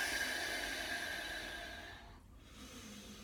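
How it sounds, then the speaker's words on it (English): A slow breathing exhale during a yoga session with weights, a soft continuous airy rush that fades toward the end, close and quiet with no talking. "So I'll just do the breathing so you can hear it."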